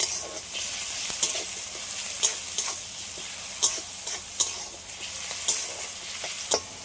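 Egg and soya chunks fry in a pan with a steady sizzle, broken by sharp ticks and clicks of stirring at irregular intervals; no voices.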